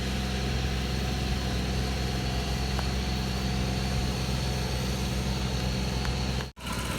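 A tractor engine runs in a rice field with a steady, close, low rumbling idle that continues without a break. It cuts off briefly near the end, and no one speaks over it.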